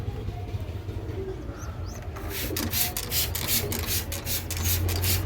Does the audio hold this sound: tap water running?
no